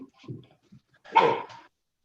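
A dog aboard a sailing boat gives a short loud bark after a few faint scattered sounds, close by in an otherwise quiet setting.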